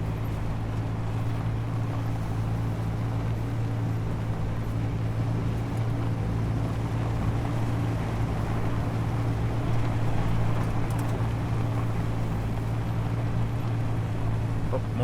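A vehicle rolling along in the Space Engineers video game, a steady low droning engine hum with layered tonal whine and a constant hissing rush beneath it, unbroken throughout.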